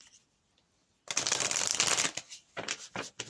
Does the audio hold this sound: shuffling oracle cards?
yes